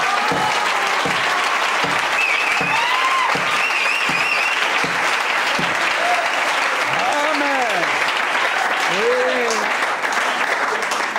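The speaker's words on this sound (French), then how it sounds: "Oh Jésus, on l'acclame encore" A church congregation applauds in praise of Jesus with continuous, loud, even clapping throughout, while voices call out and sing over it.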